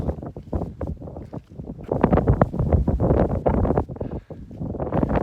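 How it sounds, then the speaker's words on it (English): Heavy wind buffeting the microphone on Franconia Ridge in loud irregular gusts, rumbling and thumping throughout with no other clear sounds. "It's a little windy"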